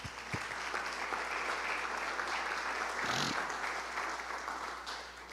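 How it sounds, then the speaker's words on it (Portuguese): A church congregation at an Easter service breaks into sustained, dense applause that holds steady for several seconds before beginning to taper. "Vamos aplaudir Jesus?"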